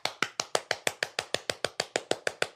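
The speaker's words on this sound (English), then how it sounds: "I'm clapping for myself." One person clapping steadily for themselves, about fifteen crisp, evenly spaced claps in quick succession, fairly close and alone without talk.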